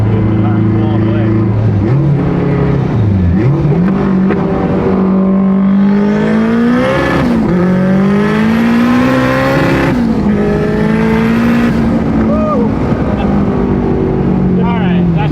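A 700+ whp all-wheel-drive Honda Civic accelerates hard, its engine note rising in loud, sustained pulls with shifts between them and whistling turbo sounds above, heard close from inside the car.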